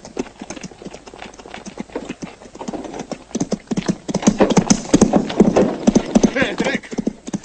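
Horses' hooves clatter in a fast, uneven clip-clop on a Western film set, with a neigh and shouting voices mixed in, growing louder and denser toward the end.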